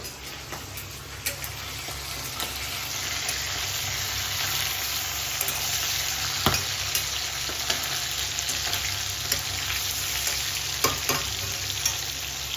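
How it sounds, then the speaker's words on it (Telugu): Pieces of dried sea fish frying in a pan give a steady, close sizzle with light crackle, broken by occasional clinks and stirring taps. "అది రెండు ముక్కలు వేసాను టేస్ట్ చూద్దాం ఎట్లా ఉంది ఏంటన్నది ఇప్పుడైతే అది ఫ్రై అవుతుంది"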